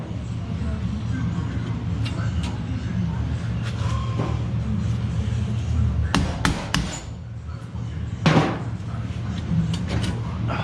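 Several hammer blows on metal ring out at irregular intervals over a steady low hum, some single strikes and some quick pairs, during an overhaul of a 1984 Ostrówek K-162 backhoe loader.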